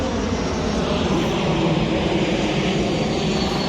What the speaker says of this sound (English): now the plane sound is perfect to show my emotions